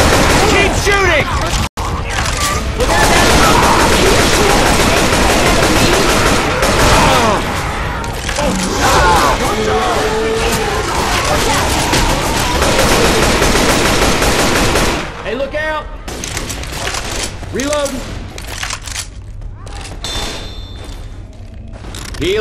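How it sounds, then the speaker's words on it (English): Gunfire in Left 4 Dead 2 rattles almost nonstop, loud and close, with rapid automatic bursts, heavy thuds and booms. Players shout over it, and it drops to sparser shots near the end. "Keep shooting!"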